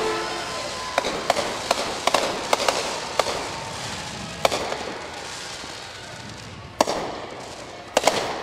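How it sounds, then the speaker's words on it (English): Fireworks at an outdoor Christmas parade go off as a series of sharp, loud cracks and pops at irregular intervals, with the crowd murmuring underneath. "Look at the fireworks. The fireworks."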